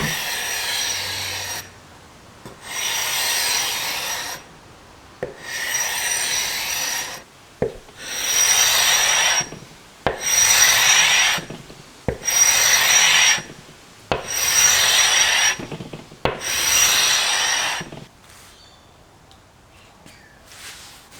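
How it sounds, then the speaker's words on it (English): Hand scraping on the wooden underside of a mid-century modern Stingray coffee table during restoration: eight long rasping strokes in a steady rhythm, each a couple of seconds with short pauses between, close and clear, no talking. "I decided to scrap the underside of the tabletop too"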